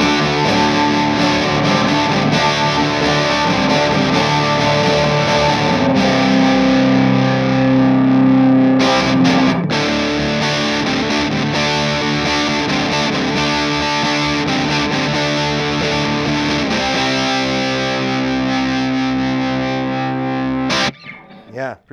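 A very loud guitar amplifier is captured through a room microphone, producing dense, distorted sustained chords and riffs that fill the space, ending with an abrupt stop and a few scattered knocks.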